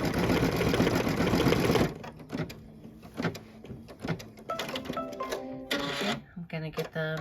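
Embroidery machine sewing a satin stitch for a plate design, a loud steady whirring run for about two seconds that stops abruptly, followed by someone talking over quieter handling noises.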